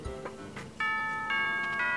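A two-note electronic chime from the video game Pokémon Sun rings out clearly, like a doorbell ding-dong announcement, over faint background noise.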